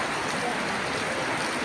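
Rain drums on a tin roof in a village house, a dense and continuous hiss that stays steady and fairly loud throughout.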